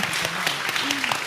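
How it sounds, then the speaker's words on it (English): Audience applause following a talk with Nipun Mehta, a short burst of dense clapping with voices mixed in over it. "So we just want to, again, give Nipunji another round of applause"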